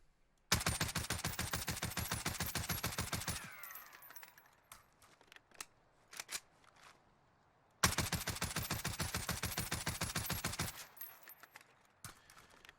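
The Oden assault rifle in the video game Warzone fires two long, rapid full-auto bursts of about three seconds each, loud and sharp, separated by a pause with scattered faint clinks and thuds.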